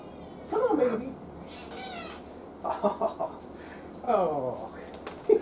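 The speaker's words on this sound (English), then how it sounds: "I heard a meow." A cat meows several times, close and fairly clear, in a workshop where a 1930s Philco clock radio is being restored; a person speaks around the meows.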